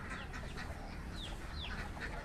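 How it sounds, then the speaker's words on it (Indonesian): Chicks and a mother hen in a village coop by rice fields, faint high peeping and soft clucks scattered over a steady outdoor hiss, quiet and somewhat distant. "di sini ada kayak anak-anak ayam, dia sambil diiring induknya."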